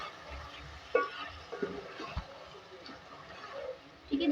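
A spoon stirs turmeric and degi red chili into beef and potato curry (degi aloo gosht) in a pot, giving faint scraping and clinking strokes with a soft sizzle beneath, while someone talks over it.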